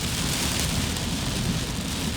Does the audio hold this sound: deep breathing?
no